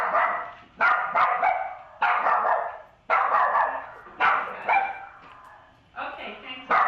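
A dog barks in repeated bursts, several short barks in quick clusters with brief pauses between, close and fairly loud, with voices talking around it.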